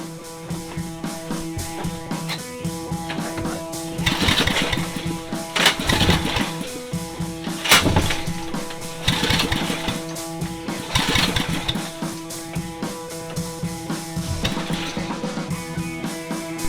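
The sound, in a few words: Briggs 4000W generator engine trying to start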